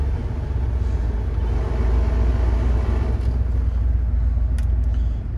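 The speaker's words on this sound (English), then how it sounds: "Always starts up nice and easy. Idle's nice." A 1977 Ford Bronco's blueprint 302 crate V8 with fuel injection idles in a steady, deep, close rumble that holds even throughout, with no talk over it.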